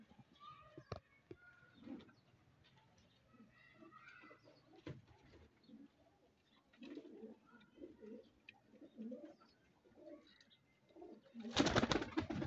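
Pigeons, kept as fancy flying birds, coo in soft low repeated phrases throughout, with scattered bird calls and some background voices, ending in a burst of loud broadband noise.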